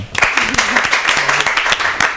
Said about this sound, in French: D'accord, on applaudit ça quand même.